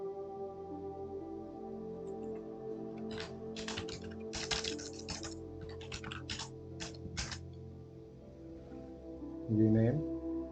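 Typing on a computer keyboard: quick bursts of close, crisp key clicks in an uneven rhythm over a steady electrical hum, with a short voice near the end.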